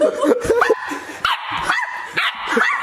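A puppy gives several loud, close yips and high barks, mixed with whimpering cries, in quick bursts with short gaps between them.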